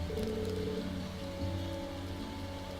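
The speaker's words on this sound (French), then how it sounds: "Sainte-Louise, cette pluie est sortie de nulle part." Steady rain falls in the Trails of Cold Steel video game as a soft, continuous hiss of drops. Sustained game music hums underneath, and no one speaks.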